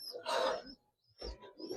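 Giribaz pigeons, including a jam-legged bird, give two short bursts of calling close by, separated by a brief silence, with no talking.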